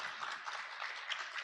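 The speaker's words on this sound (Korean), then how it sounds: "박수 한번 힘차게 부탁드리겠습니다" Applause at a launch ceremony for a mobile CT screening bus, a brief, fairly faint patter of many hands clapping without talk.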